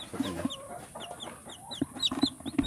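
A brooding mother hen sitting on her eggs clucks in short, repeated low calls, close by, with fainter high chirps scattered through and no voices.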